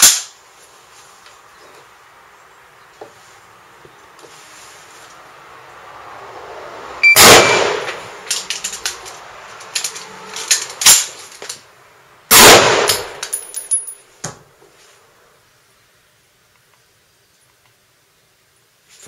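An M1 Garand rifle firing single rounds and being reloaded: two sharp, loud shots a few seconds apart, each followed by metallic clangs and clicks of the action, then quiet.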